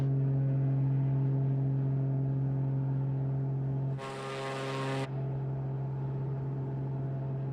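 Acrobatic propeller plane in a flight game, its engine a steady loud drone with strong harmonics throughout and a one-second burst of brighter, broadband roar midway.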